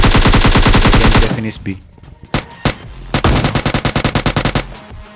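An Uzi fires in PUBG Mobile Lite: rapid, loud automatic bursts at the start, a short gap with scattered single shots, then another fast burst, with someone speaking briefly.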